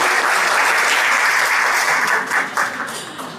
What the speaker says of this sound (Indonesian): Sekali lagi tepuk tangan untuk Bapak Abu Marlo.